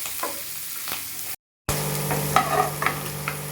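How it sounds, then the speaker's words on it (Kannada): Onions frying in a pan, a steady low sizzle broken by a short silent gap, with scattered scraping stirs and louder crackles toward the end. "1 ನಿಮಿಷ ಚೆನ್ನಾಗಿ ಈರುಳ್ಳಿ ಎಲ್ಲ ಫ್ರೈ ಮಾಡಿದ್ವಿ."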